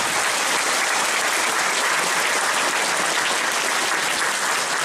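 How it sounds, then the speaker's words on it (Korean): Sustained, dense applause from a large audience fills the space continuously at a steady loudness. "다시 한번 더 힘찬 박수"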